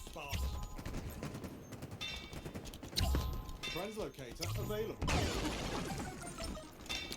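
Gunfire in the Halo video game crackles in dense bursts with explosions and effects, mixed under excited commentary voices throughout.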